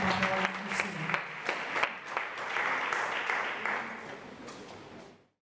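A church congregation at a women's convention applauds together, a dense sustained clapping that fills the room for about five seconds before cutting off, with no speech over it.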